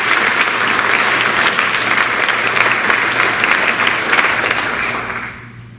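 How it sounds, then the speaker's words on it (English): At a school honor society induction ceremony, a large audience claps steadily in a sustained round of applause that tapers off near the end. "Please join me in thanking them with a round of applause."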